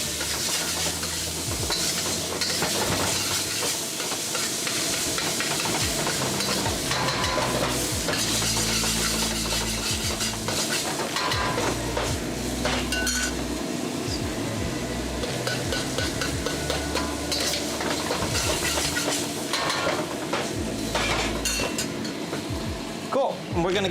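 Zha jiang mian noodle sauce stir-fries in a very hot wok for Beijing-style fried noodles, a continuous close sizzle and hiss with stirring and scraping against the pan, and occasional voices in the background.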